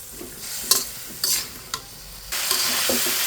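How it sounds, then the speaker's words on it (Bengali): Ground spices such as coriander, cumin and turmeric being stirred and fried in oil with green banana, with scraping spoon strokes over a steady sizzle that grows louder near the end. "এখন আমি খুব সুন্দর করে কষিয়ে নেব।"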